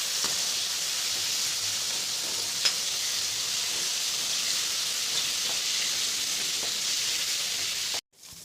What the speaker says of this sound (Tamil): எண்ணெய் காய்ஞ்ச அப்புறம் சுண்டக்காயை போட வேண்டும். நல்லா வதக்கவும்.